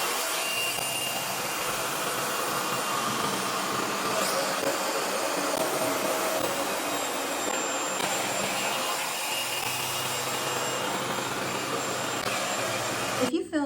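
A RevAir vacuum hair dryer runs steadily on long hair at a high heat setting with a lower tension level, giving a continuous loud whooshing roar that stays even throughout.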